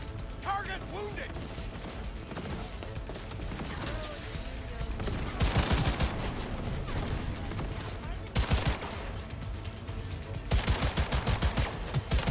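Gunfire in the video game Cyberpunk 2077, with dense bursts of rapid shots and heavier volleys over continuous game sound and effects.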